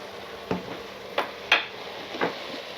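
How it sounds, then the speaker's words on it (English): Pot of burnt ends chili with Malcom's Bonafide chili seasoning being stirred, four distinct scraping, clacking strokes of a utensil against the pot spaced about half a second apart, close and fairly quiet. "Give that a good mix."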